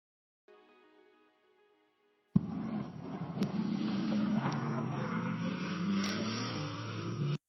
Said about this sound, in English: It sounds like race cars.